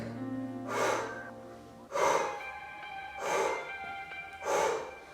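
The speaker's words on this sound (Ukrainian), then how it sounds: "Видих." Four slow, forceful breaths during a lying glute exercise with the right leg lifting, each a drawn-out airy exhale at a steady pace, close to the microphone with no talking.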